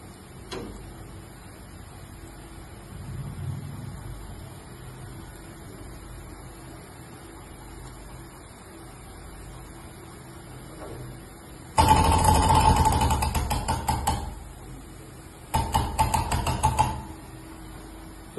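A safety valve pops on a quick-clamping test bench, giving two loud bursts of hissing release, the first about two seconds long and the second shorter, against a quiet background.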